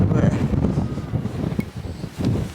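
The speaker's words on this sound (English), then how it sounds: "that wind is getting up" Gusty wind on the hilltop of Caer Caradoc near Church Stretton, Shropshire, buffets the microphone with a loud, continuous low rumble that swells and eases, strongest at the start and again near the end.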